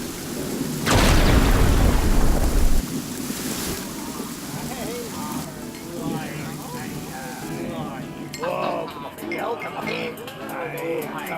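Radio drama storm effect: a loud burst of thunder with heavy rain early on, then rain and rough surf continue beneath voices speaking over a stormy night at sea.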